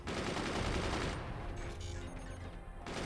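A machine gun nest in the strategy game Forts fires a long, continuous burst, a dense, loud rattle of rapid shots that thins slightly toward the end.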